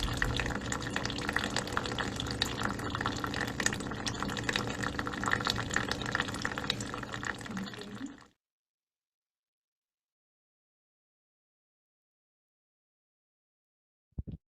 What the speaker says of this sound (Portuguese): abrir a sua torneira, deixar um filetinho de água caindo